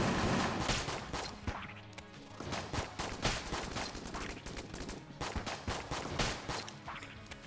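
Rapid gunfire from frost bullets in the video game Enter the Gungeon, a dense run of sharp shots and impacts, loud and continuous with brief uneven gaps between bursts.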